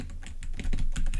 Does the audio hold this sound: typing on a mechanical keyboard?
yes